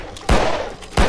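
Two sharp, loud gunshots in Filthbreed, about two-thirds of a second apart, each a hard crack with a short decaying tail.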